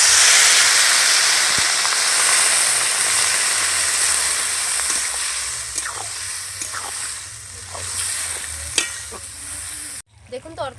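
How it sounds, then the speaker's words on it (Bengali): Water goes into a hot pan of khichuri and sets off a loud, steady hiss of steam and sizzling that fades, with a few clinks of stirring near the end. "এবার আমি জল দিয়ে দিচ্ছি।"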